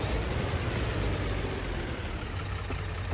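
A tractor engine idles in Farming Simulator 22, a steady low rumble running evenly and alone at moderate loudness throughout.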